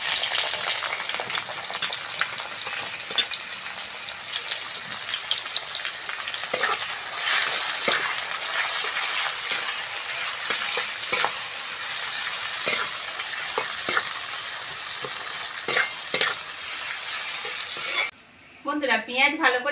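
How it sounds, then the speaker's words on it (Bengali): Chopped onions fry in oil with a pinch of sugar in a pan, a loud continuous close sizzle with frequent spoon scrapes and stirring clatter, ending with a brief different sound. "পেঁয়াজ ভালো করে ভেজে নিয়েছি"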